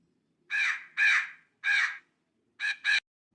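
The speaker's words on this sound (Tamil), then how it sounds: "சூ சூ காக்கா போ." A crow caws five times in harsh, separate bursts: three evenly spaced calls, a pause, then two quicker ones, close and clear over an otherwise quiet background.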